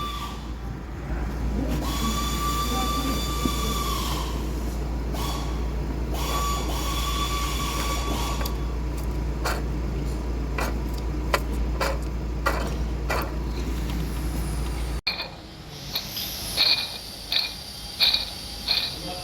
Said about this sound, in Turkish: devir dayım tamamen dağılmış arkadaşlar